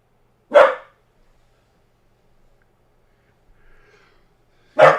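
A dog barks twice at home, two short, sharp, close barks separated by a few seconds of near silence.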